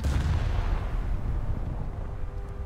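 HMS Hood's heavy naval guns fire in a naval warfare game, one deep, loud booming salvo that rolls out and decays slowly, with no talking over it.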